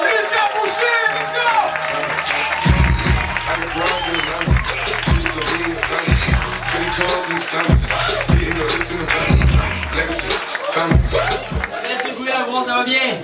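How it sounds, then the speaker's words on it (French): A crowd claps and cheers to welcome a comedy performer, with dense applause, whoops and chatter throughout, punctuated by heavy thumps and a voice speaking over the noise. "Commencez à applaudir, s'il vous plaît."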